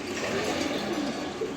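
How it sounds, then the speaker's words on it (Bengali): Several pigeons in a cage coo softly in low, murmuring bursts over a steady background hum, close by and continuous throughout. "আমি একসাথেই 4 পিস কবুতর বইরা দেখাই দিলাম খাঁচায়"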